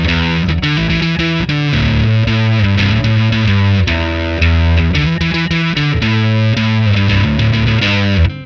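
Fuzz-distorted electric guitar through a Neural DSP amp simulator plays a percussive riff of sharp, chugging notes and chords. It is loud and continuous, with no voices, and cuts off at the end.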